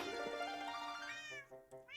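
A pet cat named Kitty Bojangles McRib II meows up close in one long drawn-out call that breaks into a couple of short rising mews, with no talking over it.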